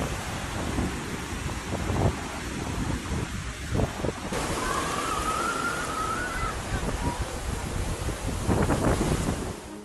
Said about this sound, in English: A video clip of the flood shows vehicles being swept away by the water